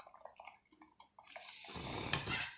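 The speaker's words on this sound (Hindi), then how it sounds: "अब हम आपको पानी डाल के मिक्स करते हैं।" Water poured into a milk and flour batter, starting with a few light clinks and taps, then building into a steady splashing pour that grows louder toward the end.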